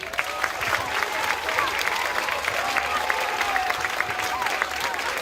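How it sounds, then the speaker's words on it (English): An audience at an elementary school's 50th anniversary celebration claps steadily in a broad, even wash of applause, with some scattered voices and faint cheering mixed in throughout. "One more round of applause."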